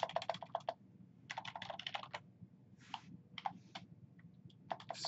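Rapid bursts of close, crisp key clicks as network configuration commands are typed on a computer keyboard, broken by short pauses between the runs of keystrokes, with no talking.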